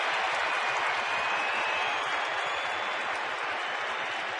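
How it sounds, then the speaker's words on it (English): A baseball crowd at Dodger Stadium erupts in loud, sustained cheering and applause as Manny appears with the bases loaded, a dense, even wall of noise with no voices standing out. "wait till the crowd sees Manny. Now they see him, now you hear them."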